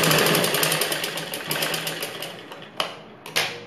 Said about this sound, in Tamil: இன்னொரு தையல் போடுறோம்.